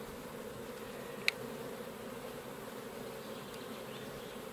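Bees buzz softly around a queen cage, a faint continuous droning hum with one brief sharp tick partway through.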